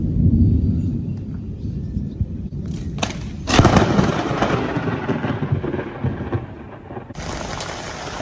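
Thunder from a tropical afternoon storm over a port in Cairns, Australia, loud rumbling cracks and a sharp burst mid-way amid steady heavy rain noise, no voices.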